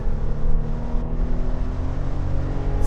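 A 2022 Toyota 4Runner TRD Sport pulling hard from a standstill in two-wheel drive, a loud sustained engine drone heard from inside the cabin.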